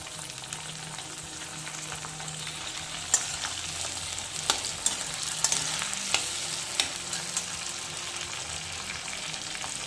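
Tomatoes sizzle steadily in hot oil in a pan while being stirred for sambar rice. The frying hiss is constant and fairly loud, broken by sharp clacks of the spoon against the pan, with no voices.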